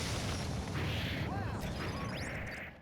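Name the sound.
explosion in the Guilty Gear Accent Core +R video game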